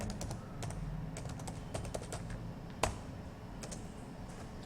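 Quick, uneven bursts of key clicks come from a computer keyboard as PHP code is typed, close and crisp, with one sharper keystroke partway through and no voice over them.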